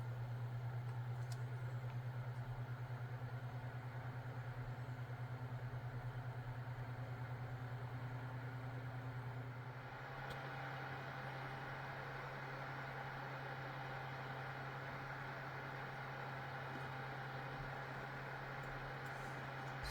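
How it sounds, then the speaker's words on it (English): Cooling fans in an Intel NUC 11 Enthusiast Kit mini PC under a CPU and GPU stress test make a steady, close whir with a strong low hum, and the tone shifts partway through as the fan speed changes. No one speaks. "So now it also have to cool the GPU on top of the CPU."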